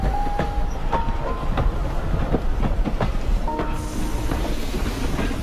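A train rolls along a railroad with a steady, continuous rumble and rhythmic clicks of wheels over rail joints; faint squeals and tonal whines come and go, with no talking.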